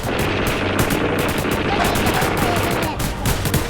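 Dense, continuous rapid gunfire from a Roblox zombie shooter set in Area 51, loud and unbroken throughout, with overlapping bursts filling the whole stretch.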